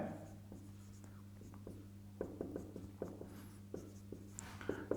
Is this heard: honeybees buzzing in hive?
no